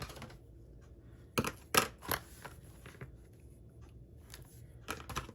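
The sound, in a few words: scissors cutting ribbon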